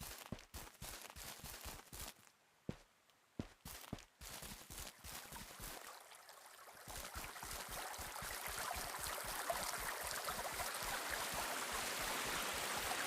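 A river flowing in the medieval survival game Medieval Dynasty: a soft rushing of water that grows louder, with steady, regular footsteps throughout, faint overall.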